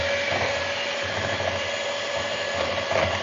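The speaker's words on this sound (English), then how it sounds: "Turn your mixer down low so the buttermilk doesn't, pop all over the place" Electric hand mixer running steadily on a low setting while blending buttermilk into old-fashioned buttermilk pie filling, a continuous close whirring motor hum with no voices.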